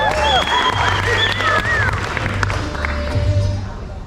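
Wedding reception guests clapping and cheering for the maid of honor, a full steady wash of applause with whoops and whistles rising above it, close and loud throughout.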